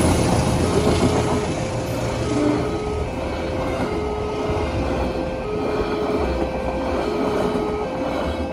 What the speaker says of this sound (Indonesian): Kereta komuter lain Doho menuju Kertosono Surabaya dari Blitar melintas.